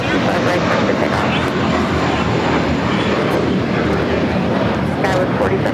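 A jet airliner taking off from runway 25 right at LAX gives a loud, steady broadband engine roar that holds without a break, with a voice faintly present.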